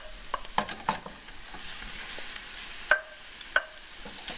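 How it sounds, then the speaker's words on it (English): Ground meat and onions browning in a pan, a soft sizzle under repeated clinking and scraping of a spoon against the pan, a few sharper knocks standing out. "Now we're going to be adding our meat."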